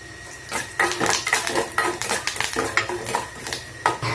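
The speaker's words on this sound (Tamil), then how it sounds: "கடுகு நல்லா பொரிஞ்சிருச்சு" Mustard seeds with chana dal and curry leaves splutter in hot oil in a pan while cooking cabbage koottu, giving quick crackling pops mixed with sharp metallic clatter of a utensil stirring against the vessel.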